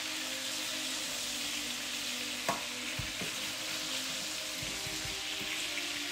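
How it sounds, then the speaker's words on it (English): Small pieces of mahi mahi sauté in a hot nonstick pan, producing a steady, even sizzle with a couple of brief knocks and clinks from the pan partway through. "our saute is pretty hot, and as it is, we put it in a nonstick pan"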